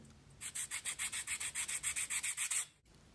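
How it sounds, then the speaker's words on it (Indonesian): Wood is sanded by hand in quick, even back-and-forth strokes, about fifteen rasping passes, shaping the nose block of a rubber-powered model airplane, close and steady, before the rubbing stops. "ada yang masih kurang jadi harus kita amplas lagi bagian yang menonjol"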